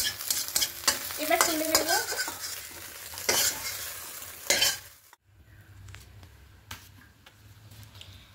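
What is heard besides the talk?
eggs scrambled and stir-fried into bhujia in a pan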